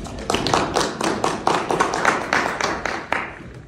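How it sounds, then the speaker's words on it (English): Scattered, sparse clapping from a small audience at an NFT NYC 2024 panel on NFTs for social impact, a handful of distinct hand claps repeating over several seconds rather than a full roaring ovation. "Let's give them a round of applause."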